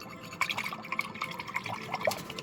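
A craft piece for a Halloween tree build is dipped into water, giving a quiet series of small splashes and drips, close up, with irregular bursts and trickles.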